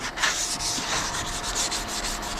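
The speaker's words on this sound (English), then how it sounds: "We're using 320 grit sandpaper in case I didn't mention that already." Hand sanding of paint on a 1966 Chevy C30 truck with 320 grit sandpaper, a steady close scratchy rubbing with repeated back-and-forth strokes, no talk.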